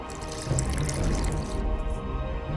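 Water poured in an alchemy scene from the video game The Witcher 2, a steady liquid splashing and trickling sound of moderate loudness, close up, with no talk over it.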